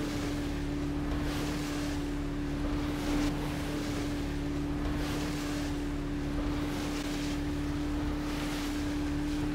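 An old motorboat bounces through choppy wake where the Severn River meets Annapolis. A steady engine drone and rushing wind carry on throughout, with periodic water slaps against the hull and no talking.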